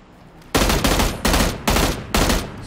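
M16 rifle fire in the PUBG video game: five loud, close, evenly spaced bursts of rapid shots, each sharp and booming, with no talking over them.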